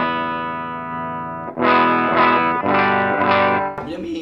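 A heavily distorted electric guitar through a distortion pedal into a Kustom Defender 5H amp holds a sustained chord, then plays several loud, buzzy strummed chords with a gritty, saturated tone.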